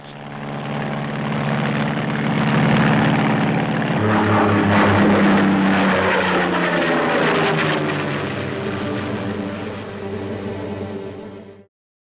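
A Curtiss XP-55 Ascender, a tail-first canard propeller fighter, drones loudly and steadily in flight. Its engine pitch shifts partway through, then the sound fades slightly before stopping abruptly.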